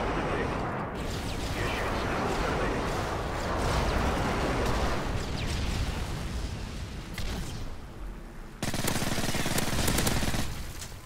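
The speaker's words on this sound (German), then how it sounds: "Verbündeter Luftschlag." Allied airstrike in the Modern Warfare 3 video game: a dense, continuous rumble of explosions and gunfire that swells and shifts throughout, with voices talking faintly underneath.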